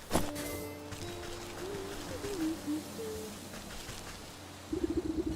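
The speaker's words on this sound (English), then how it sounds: "a warm fall breeze and the chirping of birds seizes your attention" Soft, warbling bird calls drift over a steady outdoor ambience at the edge of a forest in the Wytchwood video game, with a brief rougher burst near the end.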